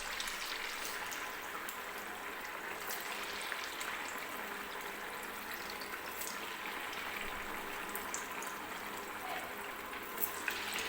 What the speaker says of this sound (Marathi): आणि हे बघा एक एक फ्राईज मी या तेलामध्ये सोडून घेते.